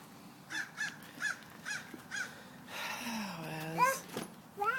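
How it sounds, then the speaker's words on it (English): A bird cries out in a series of short, rough caws repeated at a steady pace, followed by a longer wavering call, fairly faint, with a voice and household noise mixed in. "There's a bird. You better go catch it."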